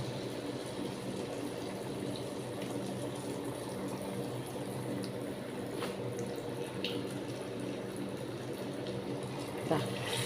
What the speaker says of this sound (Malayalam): നമ്മുടെ എണ്ണയൊക്കെ നന്നായി തിളച്ച് കിടക്കുന്നുണ്ട് കേട്ടോ നമ്മളെ ഓരോ പഴങ്ങൾ എടുത്ത്